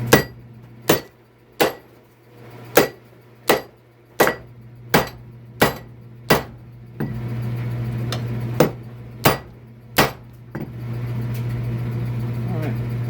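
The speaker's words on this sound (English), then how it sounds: "I'm holding it with vice grips because when you hit this thing, when you're holding it in your hands, it doesn't feel good." A hammer strikes a twisted mill part clamped in vise grips, ringing out in sharp, evenly spaced metallic blows about once per second, loud and close, with a steady hum behind that grows louder partway through.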